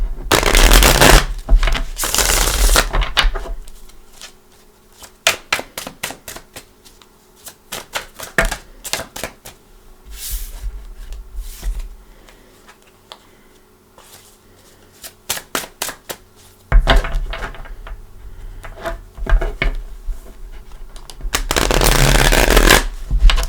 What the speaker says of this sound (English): I do want to give these a nice shuffle